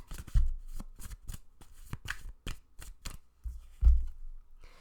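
A deck of tarot cards is shuffled by hand in a steady run of crisp riffling slaps and flicks, close and fairly loud, with two heavier thumps as the deck is squared.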